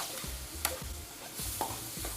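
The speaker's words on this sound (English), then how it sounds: "This pan is sizzling hot." Chicken and shrimp frying in olive oil and butter in a hot pan, a soft crackling sizzle broken by several scraping stirs of a utensil, fairly quiet with no talking.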